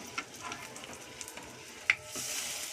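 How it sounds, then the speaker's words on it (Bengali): Paneer pieces fry in a shallow layer of hot oil, a quiet, continuous crackling sizzle with a few sharper pops and a brief louder spatter near the end, no voices. "একটা একটা করে এইভাবে ছেড়ে দিলাম গরম তেলের মধ্যে"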